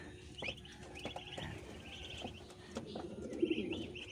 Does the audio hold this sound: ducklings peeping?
yes